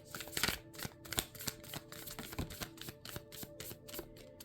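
Matte cardstock tarot cards are shuffled close up in a quick run of crisp, papery riffles and flicks, each burst clicking and flapping at an uneven rhythm.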